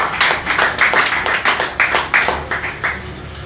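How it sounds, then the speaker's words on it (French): Rhythmic applause from an audience at the release of political prisoners, with loud, fairly close claps falling in a steady beat of about three per second throughout. "Applaudissons encore pour vous pour ça."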